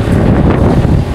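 Strong wind gusts across an open coastal spot beside an abandoned seaside resort restaurant in Barili, a steady loud rumbling roar buffeting the microphone throughout with no talk.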